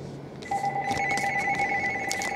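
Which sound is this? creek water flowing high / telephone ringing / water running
telephone ringing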